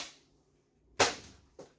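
A McCree toy blaster fires two quick shots about half a second apart, each a sharp, close pop with a brief rattling tail, the first louder than the second, with no voices.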